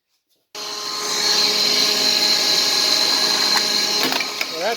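A Sundstrand Engelberg machine spins up at 3,600 RPM with a loud, steady high-pitched whine and a strong tonal hum, starting abruptly after a brief silence, with a few light knocks near the end.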